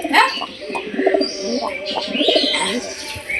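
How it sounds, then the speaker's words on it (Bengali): Pigeons coo softly nearby in a loft, with repeated throaty calls and occasional higher chirps over faint background voices. "সব কবুতর এখানে আসছে"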